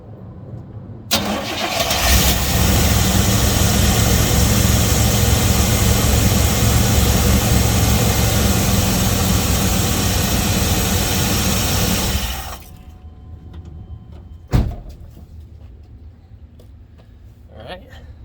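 An 88-98 Chevy GMC OBS truck engine cranks and starts after a serpentine belt replacement, then runs loud and steady for about ten seconds before cutting off, followed by a single sharp knock in a quieter room.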